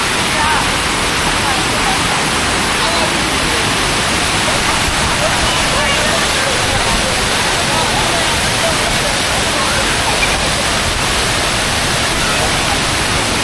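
Rushing water at a waterfall roars loudly and constantly from start to finish, a dense hiss that buries any faint voices beneath it.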